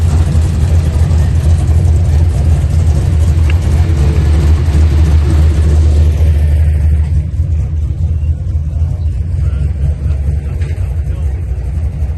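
A Chevy box car rolls into a park-and-chill car meet, its engine a steady low rumble that is loud and close at first and then eases, with people talking nearby.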